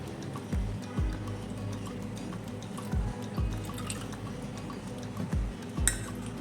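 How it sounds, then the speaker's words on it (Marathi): Buttermilk splashes and drips steadily into a vessel, with a few louder plops and clinks against the vessel, close by and alone. "पुन्हा आपल्याला हे ताक एका भांड्यात ट्रान्सफर करून घ्यायचं आहे"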